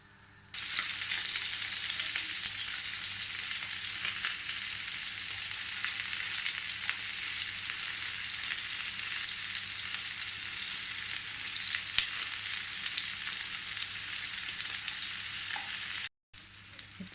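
Chicken köfte fry in a pan with a loud, continuous sizzle and crackle that holds steady for the whole stretch, then briefly cuts out near the end, with no talking.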